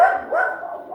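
Chica, a dog, barks at another dog walking past: two drawn-out, yelping barks in quick succession, close and fairly loud, with no talking over them.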